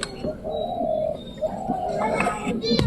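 Pigeon cooing softly beside its cold, unincubated eggs, a few low murmuring coos close by over faint background noise.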